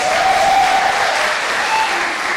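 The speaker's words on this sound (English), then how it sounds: "please clap your hands for our jury members" An audience at a German-Brazilian EdTech hackathon applauds the jury members, with dense, loud, continuous clapping that fills the whole stretch evenly.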